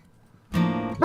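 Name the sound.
dog barking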